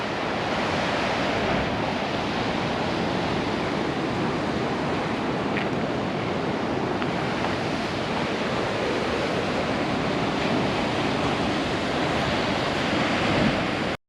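Ocean surf at Trial Bay near South West Rocks washes in a steady, loud roar of breaking waves, with wind gusting across the microphone throughout and no voices.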